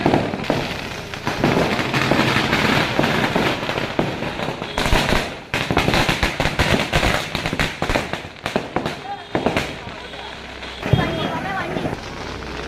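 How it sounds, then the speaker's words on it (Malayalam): Firecrackers set off outside homes during a village festival procession in Kerala, with dense bursts of sharp cracks and rapid crackling volleys, some near and loud, over crowd noise and voices talking. "അവിടെ ആ സൈഡ് പടക്കം പൊട്ടിക്കുന്നു."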